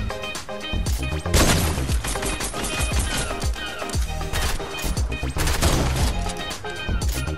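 Rapid gunshots in a Fortnite match, repeated sharp cracks in quick bursts over busy game music and effects, loud and close throughout.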